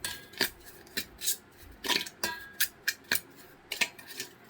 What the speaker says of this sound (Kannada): ಸೊ ಬೆಣ್ಣೆ ಹಾಕ್ಕೊಂಡು ಇದನ್ನು ನೀಟಾಗಿ ನಾನು ಕಲಿಸ್ಕೊತೀನಿ.